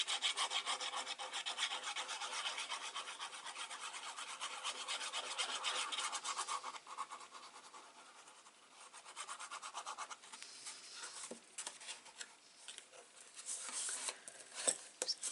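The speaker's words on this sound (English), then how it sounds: "Just go in with your bone folder and press those down" A bone folder pressing down paper flaps on a small recipe box made from patterned craft paper, heard as soft, close scraping and rubbing strokes, steady at first, then fainter with scattered light taps and crinkles.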